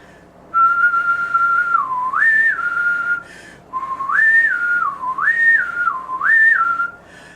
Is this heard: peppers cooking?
no